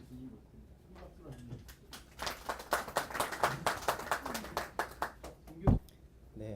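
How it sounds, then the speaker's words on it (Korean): An audience at a science and technology policy forum claps to welcome a mechanical engineering professor to the stage. A voice is heard briefly, then the clapping swells into a quick, rhythmic burst and fades away. "큰 박수로"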